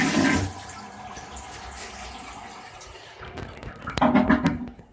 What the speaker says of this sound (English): Pardon the flush.